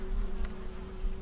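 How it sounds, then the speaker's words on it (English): Honey bees buzz in a small three-frame nuc hive with a new queen, a steady faint drone with a low hum holding constant throughout the brief moment. "that's my bees, people"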